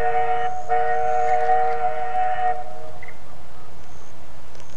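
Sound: railway level crossing at Brixton Street with passing train

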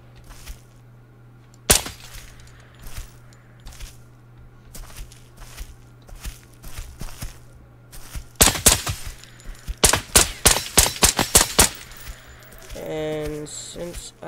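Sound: MP7 full-auto gunfire in the video game Operator

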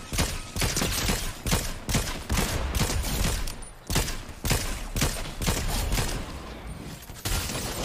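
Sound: rapid gunfire from the video game Fortnite

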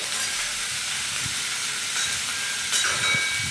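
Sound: vegetables frying in pan with salt

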